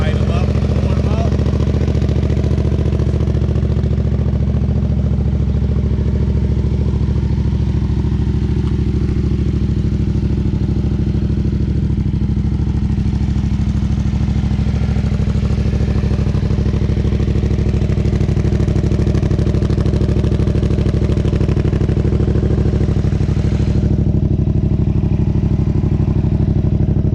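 Engine idling and warming up, a loud steady low rumble with faint clatter continuing throughout, nearby and unchanging.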